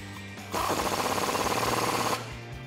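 An impact tool drives down a nut and bolt on the suspension of a 2009-2018 Ram 1500 pickup during a lift kit install, a loud, rapid, rattling burst lasting about a second and a half, alone with no talk.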